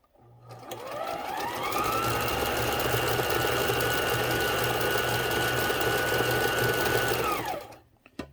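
A Kenmore sewing machine sews stretch stitches, its motor whirring up, holding an even rapid stitching drone for several seconds, then winding down to a stop, close and alone.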